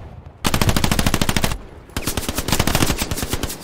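Machine gun fire in a military video game comes in two loud, close bursts of rapid rhythmic shots, the second after a brief gap, with no talking.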